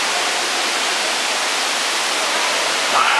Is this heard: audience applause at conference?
no